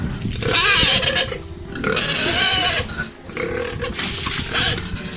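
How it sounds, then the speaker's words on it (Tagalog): A big farm pig grunts and snorts loudly and continuously at close range. The grunts come in repeated throaty bursts against rural background noise. "Ito pala yung baboy niya."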